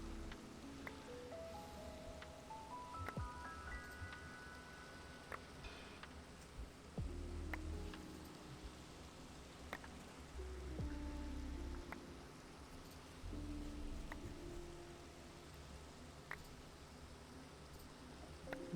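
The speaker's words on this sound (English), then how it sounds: "This is a very calming sound. The Minecraft rain plus this specific song." Steady, soft rainfall hisses throughout in the video game Minecraft, mixed with a gentle melodic tune of rising notes and occasional low thuds.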